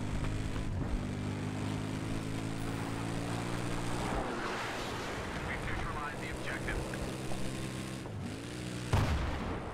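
Gunfire and loud engine drone fill a Battlefield 3 multiplayer match, with bursts of shots over a constant low aircraft-like hum, and a player's voice talks at times.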